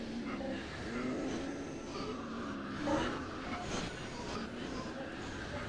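Subway train rumbling through a tunnel in Fallout 4, a steady, close, broadband roar with metallic clatter that never lets up, while someone talks over it throughout.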